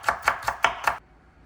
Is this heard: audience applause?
no